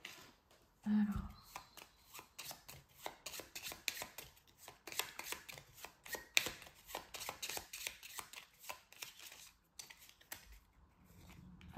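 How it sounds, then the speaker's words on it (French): Playing cards shuffled and laid out by hand during a solo tabletop game of R.A.V.E.L., a long run of close, dense riffling and slapping card noises with brief pauses between bursts. "je reprends les cartes et je vais les mélanger et les redisposer"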